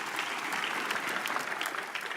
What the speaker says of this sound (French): Alors applaudissez pour lui à nouveau.